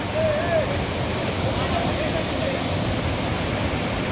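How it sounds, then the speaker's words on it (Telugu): Fast green river water in Wayanad, Kerala, rushes in a constant, loud broadband roar, with a faint voice briefly audible beneath the flow. "అరే బా, ఎంత స్పీడ్ వస్తున్నాయి వాటర్."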